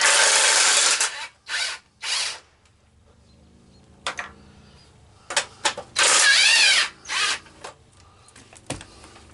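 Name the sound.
impact wrench removing bolts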